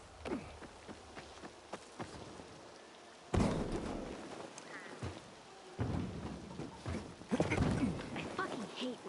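Rain and rolling thunder in a stormy scene from the video game Dying Light 2, a steady wash of rainfall with louder thunder surges near the middle and end, with a voice speaking over it.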